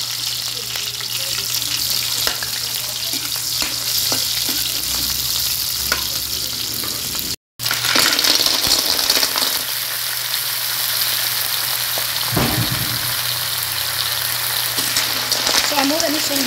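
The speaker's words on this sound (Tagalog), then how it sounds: "Ayan na si Papang Loisky, nagisa na siya og lamas." Spices sauté in a hot pan with a steady, loud sizzle and occasional stirring scrapes, for a ginataang bagoong dish, and the frying continues through a brief dropout.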